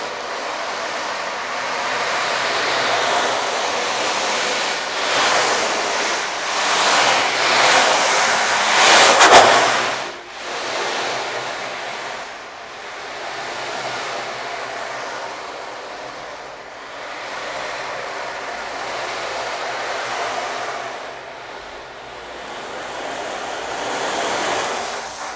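An ocean drum rolls slowly, its beads washing back and forth in long surging swells that rise to a loud crest and then fade, closely imitating ocean waves on a quiet indoor setting with no talking.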